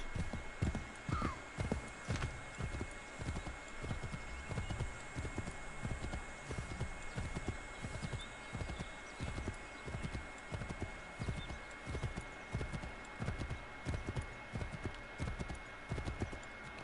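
Horse hooves gallop in a steady rapid clip-clop rhythm through an Assassin's Creed 3 Remastered game scene, with a brief whinny near the start, all fairly quiet under faint background ambience.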